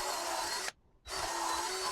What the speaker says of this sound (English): I'm just gonna pre-drill my holes between both of the two plates